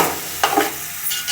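Mutton pieces for biryani are stirred and fried in a pan, giving a short close burst of sizzling with a scraping stir in the middle.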